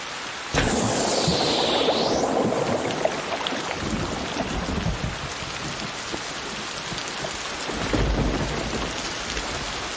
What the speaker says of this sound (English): it's raining and it's nighttime and la la la.